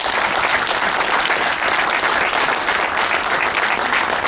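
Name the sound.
audience applause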